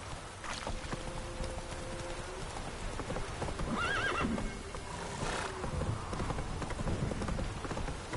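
Roach, the horse in The Witcher 3, neighs and whinnies over a steady clip-clop of hooves, close and continuous against a busy game soundscape with no talking.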